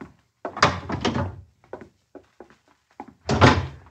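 A door opens as a sound effect in a radio crime drama: a burst of thumps and a rattle, a few small knocks, then another heavy thud near the end, close and fairly loud with no voices.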